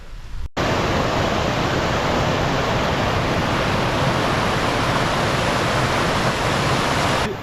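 A creek rushing past in a wild northern Norway landscape near a swamp, a loud steady broadband roar of flowing water that fills the whole scene, constant and close, with no voices.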